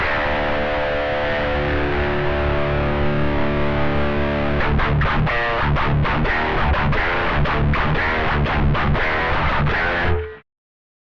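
Heavily distorted electric guitar played through a distortion amp simulator plugin, holding a sustained chord, then switching to choppy, rhythmic strummed chords, loud and continuous until an abrupt stop.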